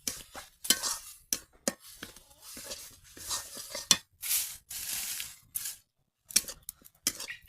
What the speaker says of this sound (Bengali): মশলাটা ভালো করে কষিয়ে নেব, যাতে পেঁয়াজ রসুনের গন্ধটা না থাকে